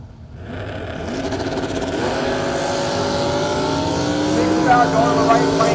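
A Chevrolet Malibu drag car roars off the line at a street-class drag race, its engine note climbing steadily in pitch and staying loud and close, with an announcer talking over it.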